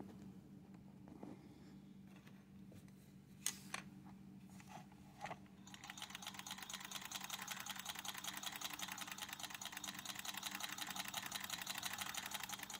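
The mechanism of a Ciné Kodak Model A 16mm movie camera runs with a worm gear turning the footage counter, faint scattered clicks at first, then a steady rapid whirring chatter that holds to the end.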